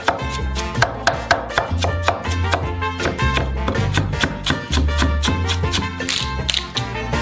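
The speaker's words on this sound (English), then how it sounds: "We cut a Crimean onion in half," A knife dices a Crimean onion on a cutting board in fast, steady, crisp chops, close and loud over a low background hum.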